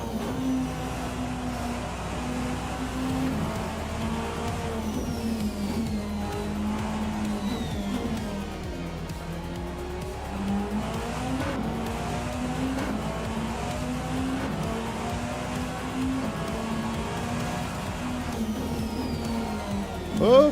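Race car engine in a Project Motor Racing or Rennsport sim game, droning and revving continuously, with pitch sweeping up and down through repeated gear shifts and downshifts, loud and close throughout.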